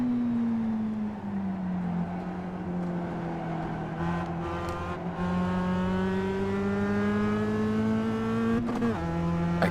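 Race car engines in the iRacing sim at Silverstone drone steadily for the whole stretch, one loud sustained note gliding slowly in pitch, with other cars' engines layered underneath and a brief shift near the end.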